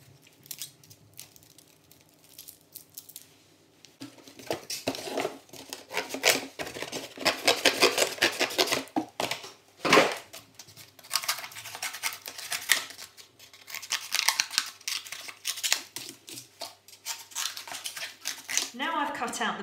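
Scissors snip through cardboard to cut out basic shapes for a printing craft, a run of dry, irregular crunching cuts at close range, loud in bursts with short pauses between them.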